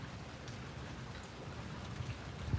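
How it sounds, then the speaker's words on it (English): Rain falls outdoors in Florida in a steady, soft patter on surfaces, an even wash of drops with no voices, faint and constant throughout. "it just starts raining"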